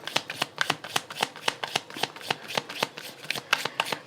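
Tarot cards are shuffled by hand, a quick run of crisp riffling flicks in a steady rhythm, close and clear, with no talking.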